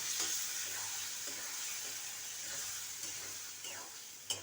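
Boiled dal is stirred into frying vegetables with a continuous soft sizzle and hiss, while a spoon scrapes and swishes through the mix at a moderate level, ending with a brief clack.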